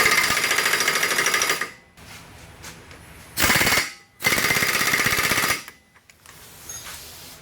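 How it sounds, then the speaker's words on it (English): An impact wrench fitted with a torque stick hammers on a Subaru Crosstrek rear axle nut in three loud, rapid rattling bursts, the longest about two seconds. Quieter shop noise fills the gaps. "I got a 160 pound torque stick, so that's what I'm doing."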